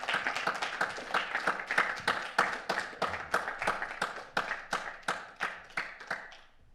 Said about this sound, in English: now the warm applause is yours